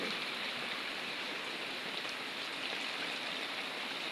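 Steady, dense monsoon rain from a low-pressure system pours down in a constant wash of hiss, even and unbroken throughout, with no voices.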